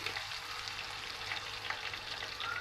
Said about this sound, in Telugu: అల్లం పేస్ట్ పచ్చివాసన పోయే వరకు ఇలా వేయించుకోవాలి ఇలా ఆయిల్లో